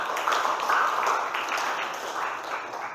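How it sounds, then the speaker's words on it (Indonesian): Students in a classroom clap their hands together, a moderately loud, steady patter of many hands that holds for about three seconds and then eases off. "Tepuk tangan untuk dia ya"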